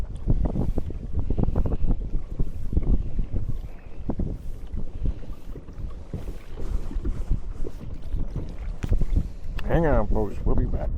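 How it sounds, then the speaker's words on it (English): Wind blows across a lake during kayak fishing, buffeting the microphone in gusty low rumbles with water and boat noises, while someone talks intermittently. "Hopefully we can get a little bit more sheltered from the wind."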